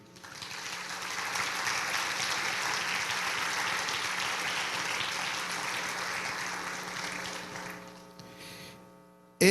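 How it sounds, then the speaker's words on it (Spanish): A congregation at a religious service claps steadily for several seconds, a dense sustained round of applause that fades out near the end over a low electrical hum. "Dale un aplauso al Señor."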